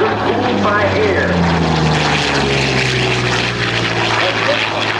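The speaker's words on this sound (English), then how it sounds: "It's an Allison V1710." A Yakovlev Yak-9 with a liquid-cooled Allison V-1710 V12 engine flies at an air show, its loud, steady propeller drone filling the air while a voice talks over it.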